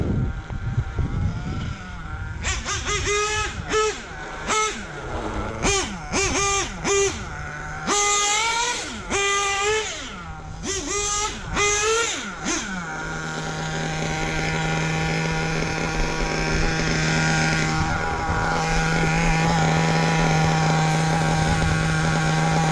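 Hobao Hyper VS2 nitro RC car engine buzzing through its exhaust pipe in repeated high-pitched revving bursts, then settling into a steady loud drone; no talk.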